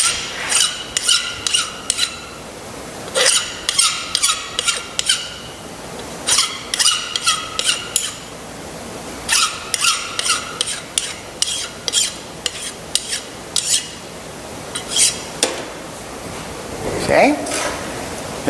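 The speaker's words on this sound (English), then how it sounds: "we're going to deburr it." A metal die is deburred with scraping and filing strokes that come in bursts of short, sharp rasps separated by pauses, close and fairly loud.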